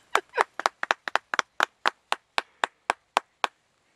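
A pair of hands claps alone outdoors at a duck hunt, near mallards landed among decoys, starting fast and uneven, then slowing to evenly spaced sharp claps that stop after a few seconds.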